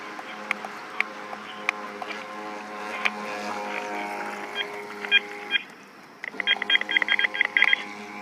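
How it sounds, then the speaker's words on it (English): A phone gives a run of quick, bright electronic beeps, the rapid repeated tones clustered at the end, beside a lake or pond where a small RC boat's motor buzzes steadily with scattered clicks throughout. "That's the phone."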